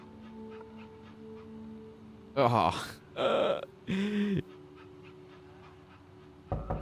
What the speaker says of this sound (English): It's your real puppy.